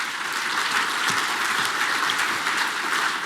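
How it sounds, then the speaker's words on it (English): Conference audience applauding its sponsors at a payments industry event, a dense, even round of clapping that holds steady throughout at moderate loudness. "Let's give them a round of applause"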